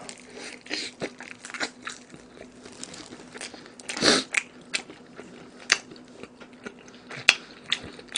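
Crispy Korean oven-baked fried chicken, including volcano drumsticks and rice-coated chicken, is bitten and chewed close to the mic, with scattered sharp crunches, a loud crackling bite midway, and softer chewing between.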